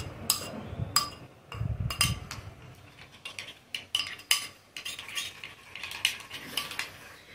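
A utensil stirs a marinade in a bowl, producing repeated sharp clinks and scrapes against the dish in an irregular rhythm, close and fairly quiet.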